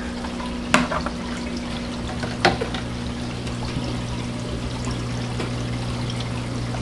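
Water flows steadily through the overflow of a home aquarium, a close, continuous trickle and pour over a low hum, broken by two brief splashy knocks.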